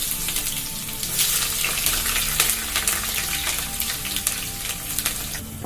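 Curry leaves, ginger, garlic and green chillies sizzle in hot oil for a Kerala fish curry, giving a steady, fairly loud hiss with crackling pops throughout and no talk.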